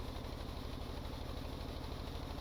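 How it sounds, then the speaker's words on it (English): Engine running in the Stormworks video game, a steady low pulsing drone with rapid regular firing beats and a constant mechanical hum, held at an even level throughout without any talk. "So you can see the engine's revving up because we are eating more electricity."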